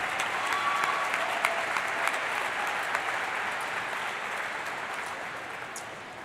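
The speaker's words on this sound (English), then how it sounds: "join me in a round of applause for the Nottingham staff" Sustained applause from a commencement audience at the Nottingham High School 2024 ceremony, honouring school staff; dense, steady clapping fills the hall throughout and slowly tapers toward the end.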